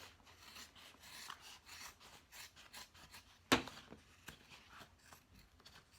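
Scissors snip through the wide seam allowances of a sewn fabric bag, giving soft, faint rasping cuts with one sharper snip partway through, close and quiet.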